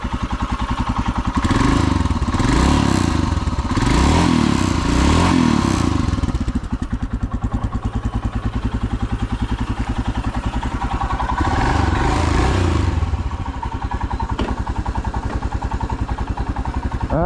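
Royal Enfield Himalayan 411 single-cylinder motorcycle riding through morning city traffic in Nairobi, with a steady close engine drone, several rising revs through the gears in the first half and again later, and passing traffic noise.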